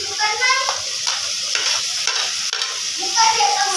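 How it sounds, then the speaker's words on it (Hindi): Tomatoes go into garlic frying in a home-kitchen pan, giving a steady close sizzle under the scrape and clink of stirring, with brief bursts of louder spitting. "तो अब इसमें मैं टमाटर ऐड कर रही।"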